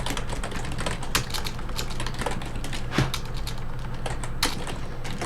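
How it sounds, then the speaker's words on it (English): Steady computer keyboard typing at close range throughout, with irregular clusters of key clicks and a few harder keystrokes, no voices. "does it bother you to hear my keyboard sounds"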